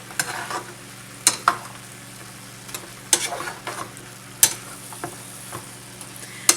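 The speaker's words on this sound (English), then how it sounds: "we're going to go ahead and stir this together" Shrimp quesadilla filling sizzling in a pan while being stirred, a soft steady frying hiss broken by sharp scrapes and clicks of the utensil against the pan.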